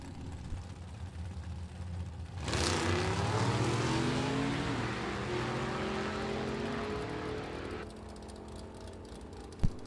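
A 1941 Willys Coupe drag car called the Bone Shaker roars down the strip at a vintage drag race, its engine loud and rising in pitch as it pulls away, then cutting off into a distant rumble.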